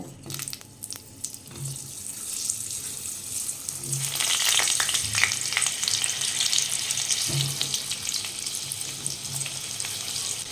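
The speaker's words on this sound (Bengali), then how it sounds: "তেলটা ভালো মতো গরম হয়ে গেছে, তেলের মধ্যে আলুগুলো দিয়ে আমি ভেজে নেব।" Potatoes frying in hot oil, a steady close sizzle and crackle that swells as they settle in the pan, with a few stirring knocks and no talking.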